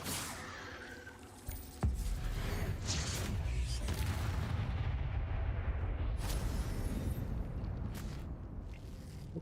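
A Descendo spell slams down in the Hogwarts Legacy video game. A sudden heavy boom lands early, followed by a long, loud rumbling crash that fades slowly, with a few sharper knocks along the way.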